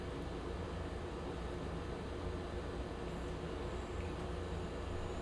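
A simulated A-10C Thunderbolt jet rolling for takeoff on runway 07, a steady, dense engine roar and whine holding constant throughout, no voices.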